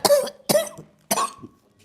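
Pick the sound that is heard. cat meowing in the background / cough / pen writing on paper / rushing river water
cough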